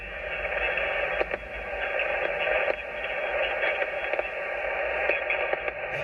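Amateur radio receiver on a quiet band outdoors in the field at night, giving a steady hiss of static with faint crackles and brief clicks, no voices coming through.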